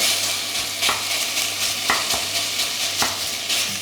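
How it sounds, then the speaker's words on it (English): Minced bacon sizzles loudly and steadily in a frying pan, with a few sharp clicks of a utensil scraping and tossing it at irregular intervals. "You want to throw it in there and immediately get your sizzle."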